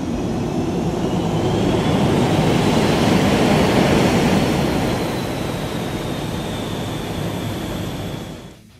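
JAS-39 Gripen fighter jet taking off from a runway in a flight video game, a loud, broad engine roar that swells and holds steady with a rising whine, then fades out at the end.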